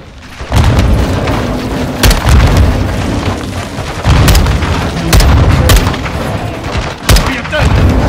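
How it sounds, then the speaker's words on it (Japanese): Grenade bombardment explosions in the Call of Duty Modern Warfare 2 campaign land as a series of loud, close, heavy booms, spaced a second or so apart over a rumbling, roaring battle background. "隠れろ。 グレネードの砲撃だ。"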